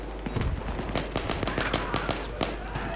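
Rapid automatic gunfire in Battlefield 3 on the Operation Métro map, dense bursts of shots cracking one after another with a constant low rumble underneath and a high electronic tone running through.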